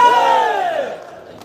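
Crowd at a Hindi poetry festival in Makhauda Dham roaring and cheering loudly for a young woman poet, a dense wave of voices that swells at once and then fades over about a second.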